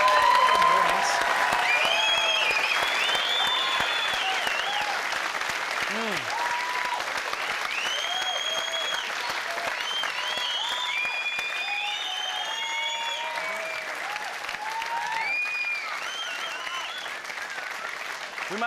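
A studio audience claps and cheers in sustained, dense applause throughout, with scattered whoops and voices heard over the clapping.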